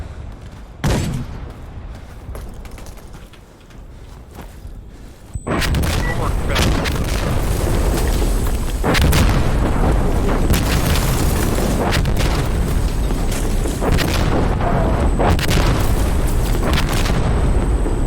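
Artillery barrage in the shooter game Insurgency Sandstorm: after a quiet stretch with a couple of distant thuds, a sudden roar of close explosions begins and continues as a dense, loud, rumbling series of booms and blasts.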